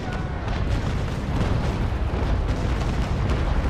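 Naval Action cannon fire from the USS Constitution's carronades and long guns, a dense continuous rumble of overlapping booms with no clear gaps, loud and heavy throughout.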